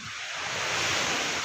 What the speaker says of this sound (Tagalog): narinig niyo ba yung tunog ng dagat?